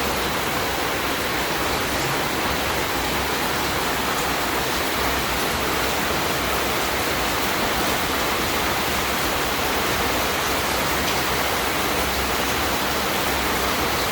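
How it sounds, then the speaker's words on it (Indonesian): Steady rain falling at a mountain campsite on Puncak Merkusi in Gunung Halimun Salak National Park, a dense continuous hiss with no breaks, close and even throughout. "Hujan lagi."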